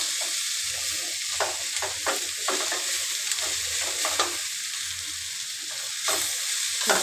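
Cauliflower curry (gobi palya) stirred in a pan: repeated scraping strokes of a spatula over a constant sizzle, rhythmic and close, with no voices.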